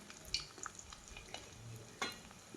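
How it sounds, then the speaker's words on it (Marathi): Potato chakli frying in hot oil in a kadhai, a soft low sizzle broken by a few sharp clinks and scrapes of a utensil against the pan. "तेल आता गरमही झालेले आणि आता चकली टाकून घेते"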